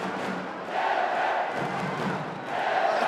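Crowd at an amateur boxing semi-final bout roars and cheers continuously, a dense wash of voices swelling louder in waves without a break.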